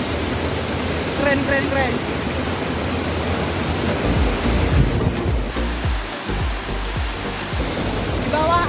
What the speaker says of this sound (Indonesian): Oke, ini dia air terjunnya.